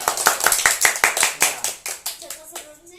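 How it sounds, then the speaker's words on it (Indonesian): A group of children and a teacher clap their hands together in a classroom, a loud, close run of crisp claps in a steady rhythm that slows and breaks up near the end as a voice cuts in. "Tepuk tangan."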